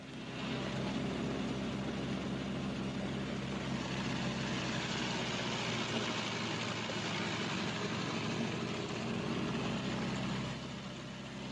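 The twin radial engines of a Martin B-26 Marauder, a WW2 medium bomber, run up together to about 1,800 RPM, a steady loud, close roar that holds for the whole stretch with no talk.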